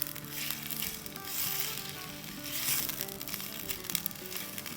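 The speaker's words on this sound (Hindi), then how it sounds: "तो बस इसे हम 2 मिनट सौटे करेंगे। प्याज को सॉफ्ट करना है" Onions sautéing in a pan for mutton keema kachori filling, a continuous moderate sizzle with soft stirring scrapes, no talking.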